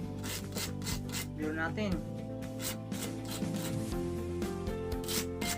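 Steady rhythmic scraping of sandpaper rubbing back and forth on the sharp edge of a homemade spearfishing lure, close up, with someone talking over it.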